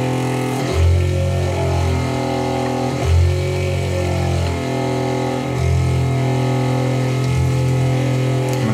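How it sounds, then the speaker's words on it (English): A sailboat's water maker pump runs steadily for the first time, a loud continuous mechanical hum with a steady low drone and pulsing surges every couple of seconds, no talk over it. "acquaint ourselves with the sounds and the sights of our water maker running for the first time"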